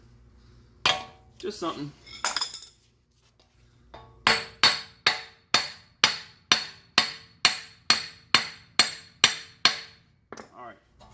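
Hammer blows drive a wheel bearing into the greased hub of a Honda Accord, a steady series of about fourteen sharp metallic strikes at an even rhythm, close and loud, after some earlier clanking and a brief spoken remark.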